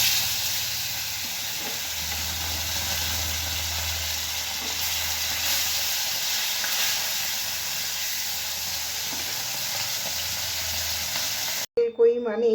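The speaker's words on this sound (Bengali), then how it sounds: "তো তেল গরম হয়ে গেছে, এবার আমি মাছগুলি ভেজে নেব।" Koi fish fry in a generous amount of hot mustard oil in a kadai, giving a loud, continuous close sizzle with faint bubbling that cuts off abruptly near the end.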